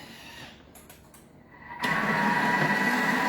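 A kitchen mixer switches on and whirs steadily at speed 4 in reverse, stirring and combining chopped okonomiyaki batter, after a few soft clicks and knocks, close and loud.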